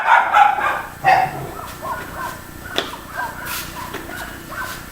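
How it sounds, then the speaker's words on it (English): Pet dogs, one of them named Bruno, bark outdoors at a middle distance. A few sharp barks and yips are followed by scattered fainter barking. "Those are my dogs."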